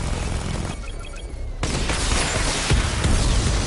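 In Batman Arkham Knight, the Batmobile's missile barrage erupts after a brief lull, a loud rapid fusillade of launches and heavy booms that keeps building in intensity.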